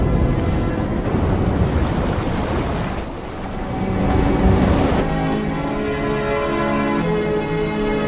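Ocean waves wash steadily onto a beach in a continuous loud roar of surf. The surge eases briefly midway and then builds again, with wind buffeting the microphone throughout.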